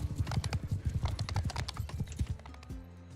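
Horse hooves clip-clop in a rapid, steady rhythm, close and clear in a video game, then stop abruptly near the end as a low game tone takes over.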